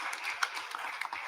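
Audience applause at a panel discussion, a short, fairly quiet patter of hands clapping with no voices over it.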